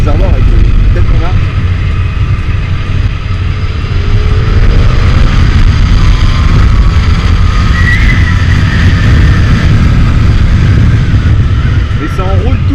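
A Yamaha FZ1S motorcycle engine pulls hard under acceleration on the road, a loud, steady roar mixed with wind rush that runs the whole time, with a rider's voice talking over it.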